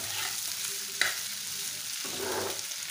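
Chicken filling for mughlai fries in a pan, a steady close sizzle with a spatula scrape and clack partway through, then more stirring over the continuous hiss.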